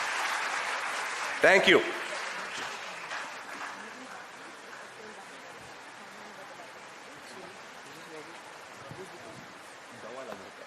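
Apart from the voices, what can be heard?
audience applauding the school teams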